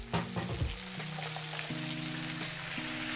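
Sliced onions caramelizing in a pan over medium-high heat for a patty melt, giving a steady close sizzle with a burst of stirring clatter at the start.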